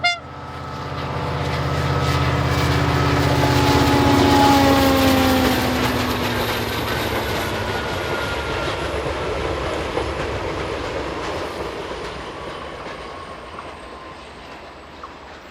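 Renfe class 334 locomotive 334014 hauls a rake of Talgo Mark VI passenger coaches past, a loud rumble with wheel clatter and a high whine that peaks early and slowly fades as the train recedes.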